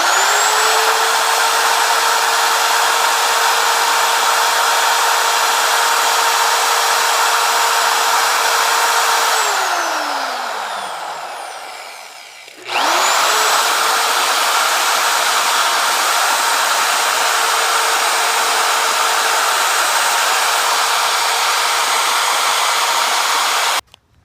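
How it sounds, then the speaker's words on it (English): A power drill bores through a steel squat rack, a loud steady high whine that winds down and stops midway, then spins back up and runs evenly before cutting off. "You're drilling through steel, you know?"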